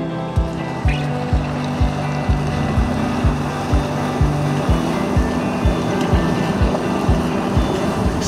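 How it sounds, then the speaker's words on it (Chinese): Electric off-road vehicle fording the Lancang River headwaters in Sanjiangyuan, a loud churn of rushing water and engine with regular rhythmic surges as the vehicle pushes through the current. "过河的时候呢，一定要顺着车头，顺着水的方向，不要迎着水的方向"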